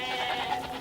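Goats bleat in a short, faint, wavering call with a tremulous quality, heard alone with no talk.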